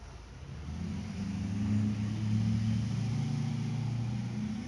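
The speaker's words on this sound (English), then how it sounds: "Listen for the motor." A motor runs steadily at a low, even hum, swelling slightly and then holding constant throughout with no voices.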